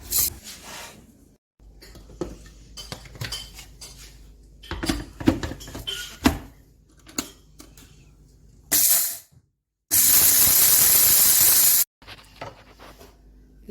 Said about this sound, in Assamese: এয়া গুড়া কৰিম মিক্সিত দি কেনে